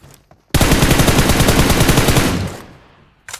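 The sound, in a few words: gunfire in the video game PUBG Mobile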